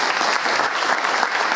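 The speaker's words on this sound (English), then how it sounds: "So maybe a quick applause just on that." Brief applause from an audience at a mid-year celebration, a dense burst of clapping that stays loud and steady for under two seconds, without voices over it.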